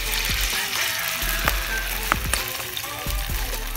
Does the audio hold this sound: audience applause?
no